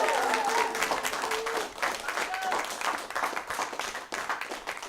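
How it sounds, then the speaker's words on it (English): An improv comedy show audience gives a round of applause, with loud clapping and a few cheers and whoops. The clapping thins and fades partway through, then swells again. "Let's give them a round of applause, everybody."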